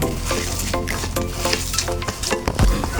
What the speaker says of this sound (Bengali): এখন আমি আবার ভালো করে মাখিয়ে নিলাম